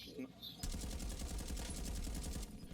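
Sustained automatic gunfire from Call of Duty: Warzone in Verdansk, a rapid unbroken burst of shots lasting about two seconds, close and dense, with a voice talking underneath.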